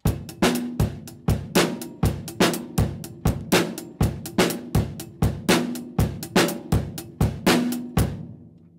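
A drum kit groove of snare and bass drum played at full speed, a steady, fast, even run of sharp close hits over about eight seconds, with no talking over it.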